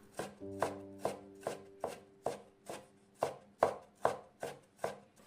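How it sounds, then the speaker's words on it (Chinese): A knife mincing a small piece of fresh ginger on a cutting board: about a dozen crisp, evenly spaced chops, close and clear with quiet between strokes. "1小块生姜，给它切成末"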